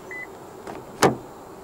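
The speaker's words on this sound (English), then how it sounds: "To lock the car, press the ribbed area on any of the front door handles." A single short mechanical click-thunk as a 2022 Honda Civic 1.5 Turbo locks via its keyless front door handle, fairly close, preceded by a faint whirring hum, then quiet.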